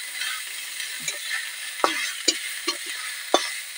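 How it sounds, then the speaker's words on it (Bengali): Onion, ginger and garlic fry in a pan for a fish curry, a steady sizzle cut by about five sharp, separate stirring scrapes, with no talking. "পেঁয়াজের সাথে আদা রসুন দিয়ে দেবো। ঠিক আদা রসুন দিয়ে দিলাম। আদা রসুন নেড়ে নেবো।"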